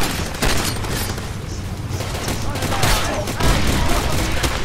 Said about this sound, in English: It's a big explosion